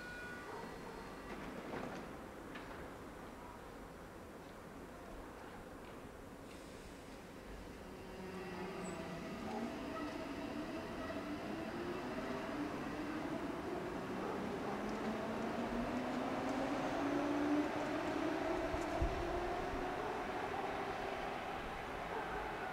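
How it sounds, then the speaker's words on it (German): A Berlin S-Bahn class 480 electric train pulls in along the track, its rising, whining motor tone and rolling wheel rumble growing steadily louder and closer over about twenty seconds, with no talk. "Eingefahrener Zug auf Gleis."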